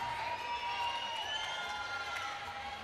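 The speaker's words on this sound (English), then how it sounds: "the crowd is letting Brian Maniecki hear about it" Baseball crowd at a youth Baseball5 World Cup quarter-final between Mexico and Kenya reacts to a disputed call with sustained loud shouting and whistling-like cheers, a continuous roar from the stands.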